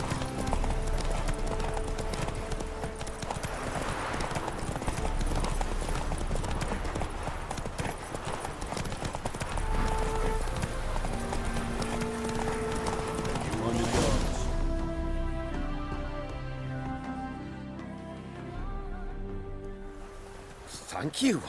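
Hooves of the horse Roach in The Witcher 3 pound in a fast, steady galloping clip-clop, loud and close, running over game music and ambient sound, with voices speaking alongside.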